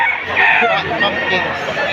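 Roosters and hens crow and cluck amid the bustle of a chicken market in Padre Garcia, Batangas, with overlapping fowl calls and crowd chatter filling the brief moment.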